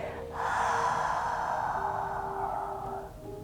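A long, steady exhale through the nose or mouth during a gentle yoga back-bend stretch for scoliosis, close and breathy, lasting about three seconds with no talking.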